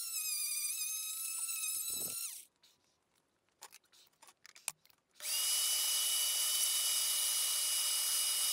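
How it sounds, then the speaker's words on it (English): Die grinder removing casting flash from a turbo manifold's water jacket, a loud high-pitched whine that stops for a few seconds of scattered clinks and handling noise, then spins up again and runs steadily. "I'll get a die grinder out, and I will get stuck into this."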